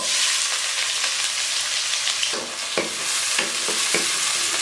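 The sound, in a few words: finely chopped onions frying in hot oil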